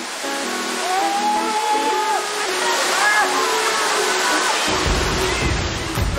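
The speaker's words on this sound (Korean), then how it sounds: "덕분에 이렇게 깊은 산속에 멋진 온천 폭포가 흐르게 됐습니다" A hot spring waterfall deep in the mountains of Sichuan, China, pours in a steady, broad rush of falling water, with a voice briefly audible over the roar early on.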